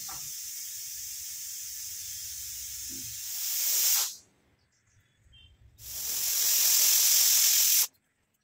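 A pressure cooker of chickpeas on the stove vents steam in two loud, steady hissing bursts, each lasting a few seconds, with a short quiet gap between them and no talking.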